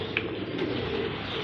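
Cooing of a five- or six-year-old pet pigeon held in the hand, steady and close against a dense background of other birds calling throughout.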